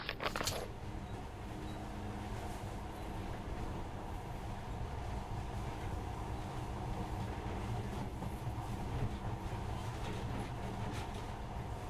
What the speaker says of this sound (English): this monorail seems magic, doesn't it?